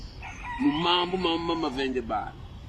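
A single rooster crows nearby, one drawn-out call of about a second and a half that rises, wavers, then breaks off against a quiet background.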